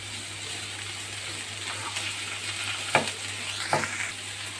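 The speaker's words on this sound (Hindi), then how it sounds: "हाई फ्लेम पे चिकन और जिंजर गार्लिक फ्राई हो गया है।" Chicken with onion and ginger-garlic paste frying over a high flame, a steady hiss of sizzling oil with a few sharp spatula scrapes and stirs against the pan, fairly close with no talking.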